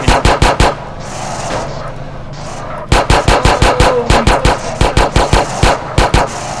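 Gunfire in the video game GTA San Andreas multiplayer, loud rapid bursts of evenly spaced shots, a short volley, a brief pause, then a longer sustained string.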